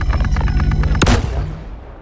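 A rapid burst of gunfire aimed at a target, close and loud, ending in one sharp crack that rings out and fades, with no talk.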